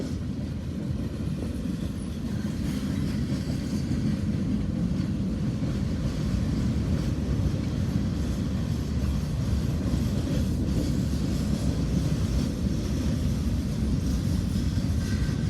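A train rolls steadily into a rail yard in Indiana or western Kentucky, its wagons producing a continuous loud rumble and rattle throughout with no break.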